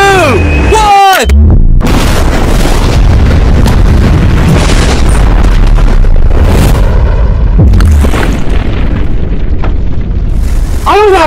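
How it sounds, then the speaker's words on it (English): A massive, deafening real explosion involving a crashed Lamborghini, with a deep rumbling roar that lingers for seconds, with excited shouting before and after. "This is a real explosion."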